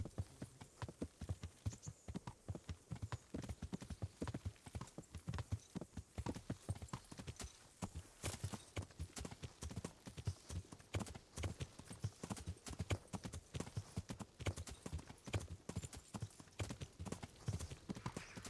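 Rapid, steady clip-clop of galloping horse hooves in the video game Kingdom Come: Deliverance, close and continuous, with a brief snort or whinny now and then.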